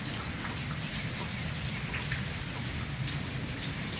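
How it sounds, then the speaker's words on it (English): Steady rain falls outside a porch on a quiet morning, a continuous even hiss of drops on surfaces, fairly soft and unbroken, with no voices over it. "Raining."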